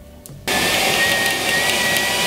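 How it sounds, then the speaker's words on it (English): A stand mixer beating a cup of butter until creamy kicks on after a brief pause and keeps running as a steady, loud motor whir with a high whine, continuous until it stops at the end. "In my standing mixer, I'm going to beat 1 cup of butter until creamy."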